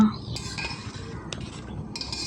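A spoon scrapes and clinks against a metal pressure cooker while rice for khichdi is stirred, with a few sharper knocks.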